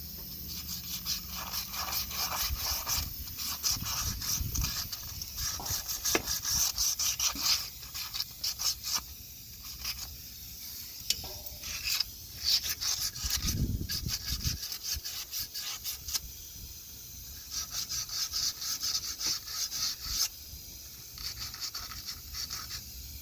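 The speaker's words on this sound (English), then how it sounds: "And we're also gonna sand this lip. We're gonna be using this type of sandpaper." P120 grit sandpaper is rubbed back and forth across the lip of a truck pinion yoke, giving a close, rhythmic scratchy rasping with short pauses between strokes.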